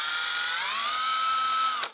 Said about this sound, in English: Look how easy it is to go through with a bigger drill.